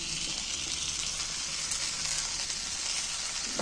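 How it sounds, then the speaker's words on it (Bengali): Pea paste hitting a hot pan for an egg and potato dish, giving a steady, close sizzle and crackle of frying throughout, rising slightly at the end, with no talking. "দেখো মটরশুঁটির পেস্টটা আমি এর মধ্যে ঢেলে দিচ্ছি"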